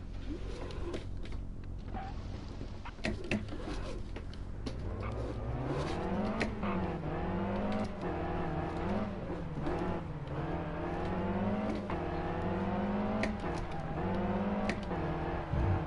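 Rally car engine in Sébastien Loeb Rally Evo on a Monte Carlo stage, the revs climbing and swinging up and down through gear changes, loud and continuous with no voices.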